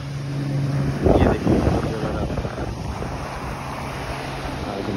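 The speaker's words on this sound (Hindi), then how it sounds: "देखिए आज लहरें भी इतनी ज़्यादा हैं।" Sea waves rolling onto Kite Beach in Dubai on a rough day, a steady broadband wash with a swell of surf about a second in, heavily buffeted by wind on the microphone.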